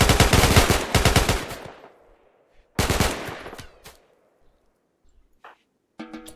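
Colonists in the video game RimWorld fire their guns in two loud rapid bursts of automatic gunfire separated by a short pause, followed by a few scattered single shots.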